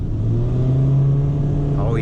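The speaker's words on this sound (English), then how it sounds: "I'm about to test out the cheeky acceleration here" A 2010 Honda Fit engine heard from inside the car, a steady droning hum that starts to climb in pitch near the end as the car accelerates hard. No one speaks.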